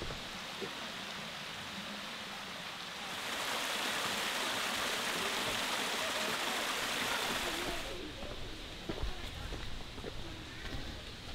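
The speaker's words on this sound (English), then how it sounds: "the main waterfall is right there" The main waterfall at Clifty Falls, feeding smaller falls below, gives a steady broadband rush of falling water heard from a trail, swelling louder midway and then easing back.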